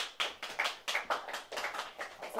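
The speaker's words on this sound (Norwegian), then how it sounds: "Da må vi gi henne en applaus." Clapping at a Dreamstipend award ceremony, a short burst of about a dozen quick claps, fairly close and moderately loud, from a small audience.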